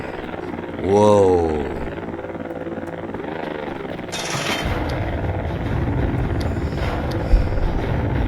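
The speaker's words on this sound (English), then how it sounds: "That's the drone." Drone flying in Voices of the Void, a rising whine as it passes, then a dense mechanical buzz and rumble that builds and keeps going, with a brief exclaimed voice over it.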